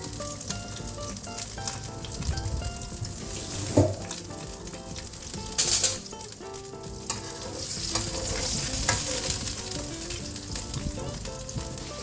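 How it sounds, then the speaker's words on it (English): Small fish frying in a pan of oil, a steady loud sizzle with crackling pops throughout, a few clinks of utensils against the pan, and no voices. "while we're waiting for the fish to be fried"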